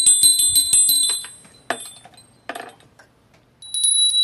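A small hand bell for calling down a Shinto deity rings in several quick bright shakes, then pauses with faint rustles before a final short jingling burst, close and clear with no talk.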